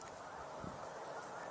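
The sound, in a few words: geese honking in flight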